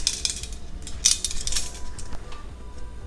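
A tortilla gets flipped in a pan while making chicken enchiladas, giving a few sharp metallic clinks and scrapes of a utensil against the pan, close and brief.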